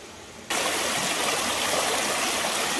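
Water rushes through a gold sluice set on bedrock in West Virginia, a loud, steady broadband roar that starts abruptly and continues close up, with no voices.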